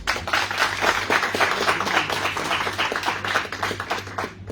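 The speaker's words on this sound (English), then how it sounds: "Round of applause." Audience at a launch event applauding, a sustained even spread of clapping from many people with a low steady hum underneath, continuing throughout.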